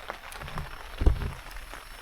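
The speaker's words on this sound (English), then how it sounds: "It's still raining." Rain falls at a solo canoe campsite, a faint, soft patter of scattered drops on nearby surfaces with one brief, louder low thump in the middle and no talking.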